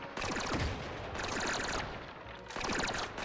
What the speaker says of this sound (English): There's some slug rounds now.